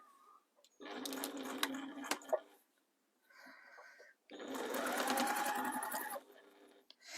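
A domestic sewing machine stitches a fabric hexi mat in two distinct runs, a buzzing mechanical whir with rapid needle clatter, separated by a short pause and small handling noises.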